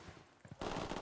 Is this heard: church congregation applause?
no